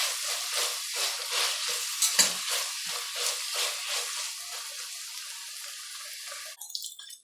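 Chicken biryani ingredients frying in a pot, a close, steady sizzle with rhythmic stirring scrapes and a few clinks, ending in a short clatter.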